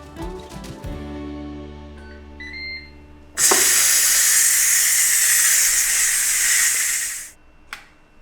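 Steam hisses loudly and steadily from a pressure cooker releasing pressure after cooking broccoli cheddar soup, a sudden strong burst lasting about four seconds before cutting off, preceded by quieter kitchen clatter.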